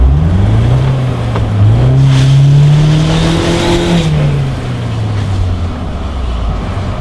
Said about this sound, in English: you could just do a burnout in the water